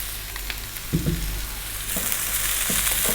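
Vegetables for vegetable fried rice, including mixed bell peppers, courgette and mushrooms, fry on high heat with a steady broadband sizzle, and brief low stirring knocks land near the start and middle.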